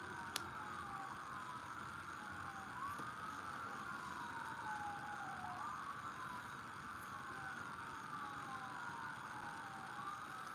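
Emergency vehicle sirens wail outside, their rising and falling sweeps repeating steadily over a constant hum of background noise, fairly distant and moderately loud with no voices.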